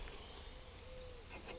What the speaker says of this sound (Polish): tu są osy.